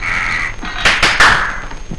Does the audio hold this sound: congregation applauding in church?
no